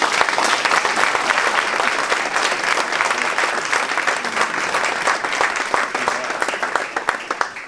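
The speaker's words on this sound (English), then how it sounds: "So please give a round of applause to our guests." Sustained audience applause fills the room, dense and steady with many hands clapping, continuing throughout without a break.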